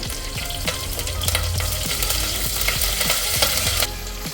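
Curry leaves sputter in hot tempering oil with a loud, dense crackle and sizzle, broken by stirring strokes at a steady rhythm.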